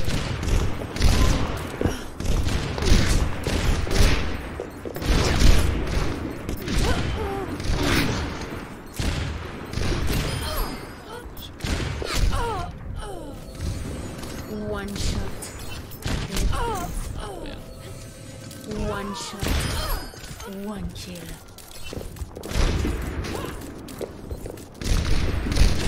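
Widowmaker's gunfire in Overwatch lobby gameplay, dense repeated shots and booms from the game over nearly the whole stretch, loud and continuous amid a busy mix of game effects.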